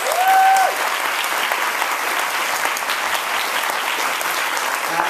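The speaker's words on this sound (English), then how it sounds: "So a big round of applause." Audience applause at a debate event, a dense steady wash of clapping from a sizeable crowd that starts at once and holds at full strength throughout, loud and close, with no talking.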